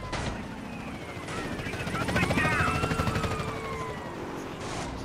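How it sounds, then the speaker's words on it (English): Helicopter in GTA San Andreas Definitive Edition hovering close with a loud, pulsing rotor drone, overlaid by gunfire, siren-like tones and voices talking. "It's a fucking chopper on us."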